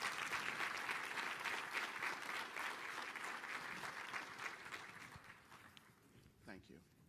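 A city-hall audience at a state of the city address applauds the department directors, dense clapping that gradually thins and fades out, leaving a voice speaking briefly at the end.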